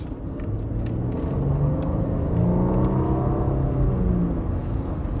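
A 2018 Lexus LS 500 F-Sport sedan accelerating from a stop in eco mode, a steady low engine rumble building smoothly with rising tones, heard from inside the cabin with no talking.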